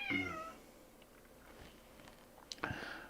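A house cat meows twice close by, one drawn-out meow at the start and a shorter one near the end, with a quiet room in between.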